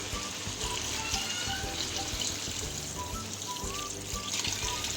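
Water poured from glasses into a cooking pot of chicken tikka pulao, five glassfuls in all, makes a steady, close, continuous splashing pour with no talk over it.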